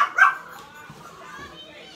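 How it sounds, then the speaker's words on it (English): A dog in a home kitchen during pizza making gives one short, sharp bark at the start, followed by quieter room sound and faint background noise. "It's your pizza loving dog."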